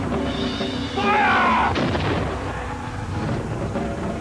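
A single loud artillery cannon blast booms close by in a historical battle reenactment, followed by a rolling echo and lingering rumble as the sound fades.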